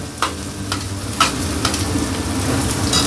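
Ginger, garlic and curry leaves fry in hot oil in a wok, giving a constant sizzle broken by a few sharp crackles and stirring scrapes. No one speaks.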